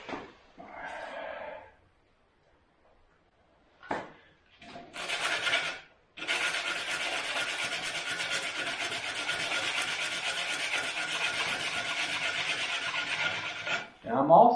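Steady rasping file strokes on a wooden banjo bridge, thinning the foot so less wood touches the head, close and continuous for several seconds after a few brief scrapes and a knock.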